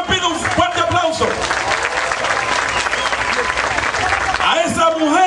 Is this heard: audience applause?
yes